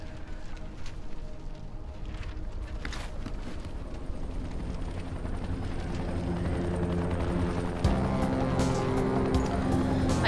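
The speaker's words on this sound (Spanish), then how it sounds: "Ahí está el helicóptero del SAI." A helicopter in the video game Dying Light, its rotor chopping as a loud, continuous rhythmic thudding that grows slightly stronger over time, with some scattered clatter and no clear speech.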